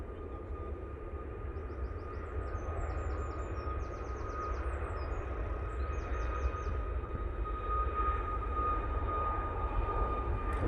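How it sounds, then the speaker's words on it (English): TUI Boeing 737 MAX 8 on its takeoff roll at Manchester Airport, a steady broadband engine roar held at a distance with a faint high whine throughout, and birds chirping sporadically above it. "Tui, now in focus. 737 MAX 8. Now on the roll."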